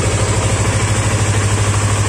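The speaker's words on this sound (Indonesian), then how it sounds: "So motor ni dah boleh start, dah boleh bawa dah." A motorcycle engine idles close by, a steady low rumble with a quick, even throbbing pulse and no other sounds.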